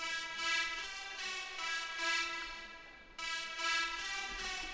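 A higher-octave synth lead layer from a remix plays bright, saturated pulsing notes in a repeating phrase, cutting out briefly before resuming, alone and moderately quiet.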